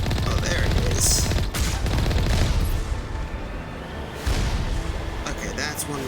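Rapid gunfire aimed at a turret in Mass Effect (Legendary Edition, first game) rattles on in dense bursts, loud and close, with a brief pause and then more shots; a voice talks over part of it.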